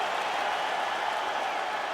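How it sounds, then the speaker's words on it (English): A large arena crowd cheers and applauds after a full 25-minute MMA fight between Yan Xiaonan and Holly Holm, a steady, dense wash of clapping and roaring with no pauses. "Stand and cheer, ladies and gentlemen."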